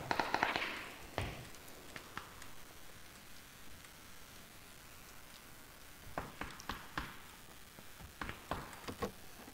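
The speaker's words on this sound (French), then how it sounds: "Et ça tire juste à côté de toi." Gunfire close by in PUBG, a battle royale shooter, heard as a loud crack at the start and then bursts of sharp rapid shots later, separated by quiet stretches.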